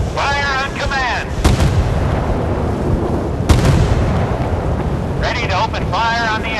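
Warship guns fire in the Force of Warships naval combat video game, with two sharp heavy blasts over a continuous low rumble of battle, and voice lines at the start and end.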